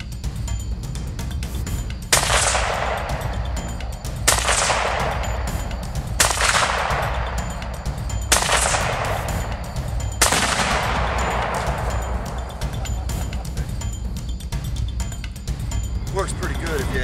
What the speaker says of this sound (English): Perfect repair tool. Chinese SKS.